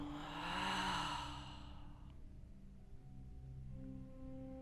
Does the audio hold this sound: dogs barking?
no